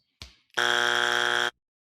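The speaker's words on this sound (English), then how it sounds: "You got your buzzers and dings ready. The buzzer's ready." A game-show style buzzer sounds during a ranking discussion: a short thump, then one loud, harsh, sustained electronic buzz lasting about a second before cutting off abruptly.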